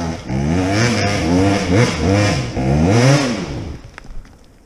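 An enduro motorcycle engine revs hard in repeated rising and falling surges, close and loud, during hard enduro riding, fading out at the end.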